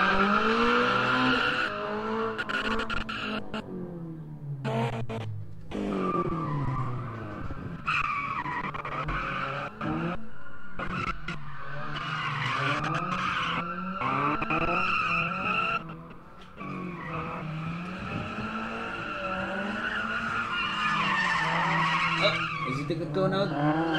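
A car skids and squeals its tyres around a bike chicane at a Witzenberg Motorklub gymkhana test, with loud, continuous wavering tyre squeal and engine noise for the whole stretch, swelling and dipping as it turns.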